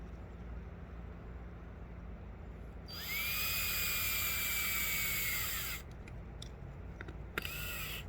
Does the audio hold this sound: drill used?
yes